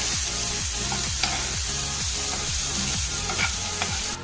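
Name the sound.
sautéing onion and curry leaves in pan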